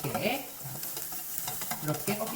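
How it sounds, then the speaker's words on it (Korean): Bellflower root (doraji) stir-fried in a pan, with a steady close sizzle and repeated scraping stirs that swell and ease over a couple of seconds, no voices. "도라지 볶아줍니다"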